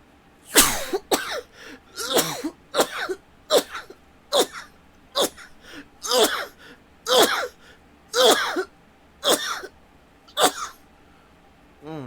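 Eleven or so sharp, bursty sneezes or coughs fire in a steady series about a second apart, close and fairly loud, with short quiet gaps between them and no talking.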